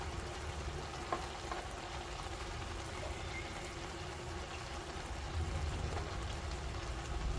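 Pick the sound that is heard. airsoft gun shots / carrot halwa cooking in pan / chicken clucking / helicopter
carrot halwa cooking in pan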